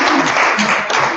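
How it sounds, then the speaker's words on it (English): Brief, loud burst of audience applause during a learning-leaders panel session at a conference, a dense clatter of clapping that swells and dips slightly over about a second. "I'd like a round of applause."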